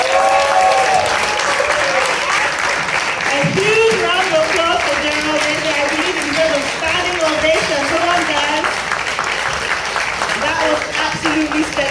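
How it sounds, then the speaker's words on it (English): Sustained audience applause and clapping after a live music performance at a music industry workshop in Lagos, steady and loud for the whole stretch, with a host's voice speaking over it. "A huge round of applause."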